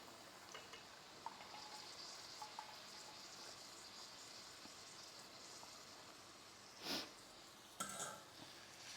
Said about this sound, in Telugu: స్లోగా కలుపుకోండి జీడిపప్పు ఊరికే విరిగిపోతుంది కాబట్టి గట్టిగా కాకుండా లైట్గా కలుపుకోండి